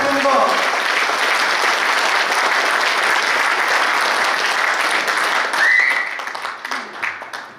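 A crowd at an association's inauguration ceremony gives loud, sustained applause that tapers off near the end, with a brief voice cutting in over the clapping.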